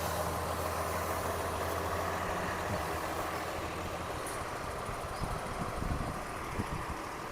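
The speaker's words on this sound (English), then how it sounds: "I don't know if that's just the garbage truck or if that was something else." A garbage truck idles and rumbles nearby on a city street on garbage day, its engine drone steady and loud, with some clanking and hiss as it prepares to back up.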